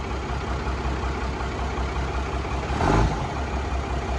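A seized and flooded Dodge W350 truck with a 12-valve engine, revived after a decade of sitting, runs with a steady low rumble and then swells briefly in one short rev before settling back.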